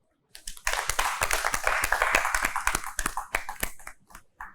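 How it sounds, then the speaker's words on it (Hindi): Hands clapping for Omar in a studio audience on the Tamasha reality show, a quick burst of sharp claps that starts abruptly, thickens into steady applause for a few seconds, then thins out into scattered final claps. "उमर, आप तो अपने लिए तालियां बजा लें।"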